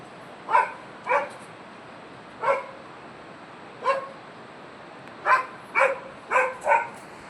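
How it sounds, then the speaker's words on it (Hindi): A dog barks near trees where langur monkeys are gathered: about eight sharp barks, fairly close, in scattered single and clustered bursts with quiet pauses between and no talking. "जैसे कुत्ता भौंका"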